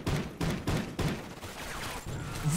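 Gunfire from a slow-firing weapon in a Call of Duty match, with about seven evenly spaced shots in a steady, deliberate rhythm, loud and close.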